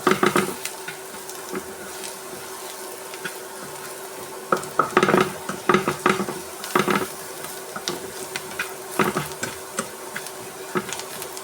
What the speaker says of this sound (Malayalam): നന്നായി വഴറ്റിയെടുക്കാം.